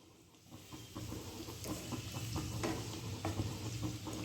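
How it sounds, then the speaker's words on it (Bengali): Potatoes frying with onion in a pan, a steady close sizzle with occasional stirring scrapes and soft crackles, no talking. "আলুটা পেঁয়াজ দিয়ে ভেজে নিলাম"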